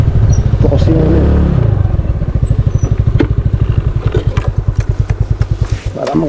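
A motorcycle engine runs close by, first revving and then settling into a rapid, even chugging beat that ends in a final sputter.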